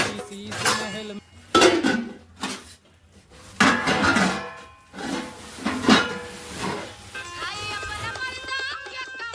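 Stolen metal pots and utensils clatter and clang in several loud bursts, some ringing on after impact, with a few quieter knocks between them.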